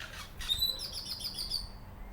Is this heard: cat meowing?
no